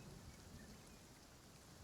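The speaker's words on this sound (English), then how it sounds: "for some reason, it's still raining up here." Steady rain pours in a game world high in the sky in Genshin Impact, a dense, even hiss with a low rumbling undertone and no voices over it.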